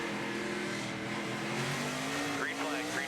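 NASCAR Nationwide Series race car engine at Phoenix in 2010, heard from the onboard camera: a loud, steady high-revving drone with shifting pitch, tire squeal near the end, and faint talk beneath it.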